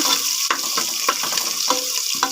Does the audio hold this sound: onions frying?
yes